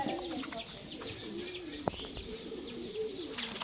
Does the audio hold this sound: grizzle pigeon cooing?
yes